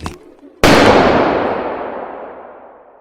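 A single sharp gunshot rings out close and loud after a short quiet moment, then trails off in a long fading echo, like a pistol fired at night in a narrow alley.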